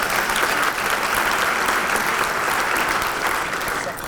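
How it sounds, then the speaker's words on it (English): An audience applauds a police band at a crime prevention awards ceremony, a loud, dense, sustained round of clapping that holds steady throughout and eases slightly at the end. "Let's give them another round of applause."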